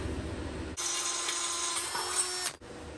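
A power drill whines steadily at close range for nearly two seconds, grinding into a stainless steel exhaust pipe to make an O2 sensor bung hole, then cuts off abruptly.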